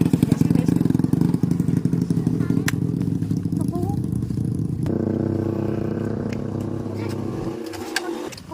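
A motorcycle engine idles and rumbles steadily nearby, the tone shifting partway through, with occasional clatter and faint bird sounds.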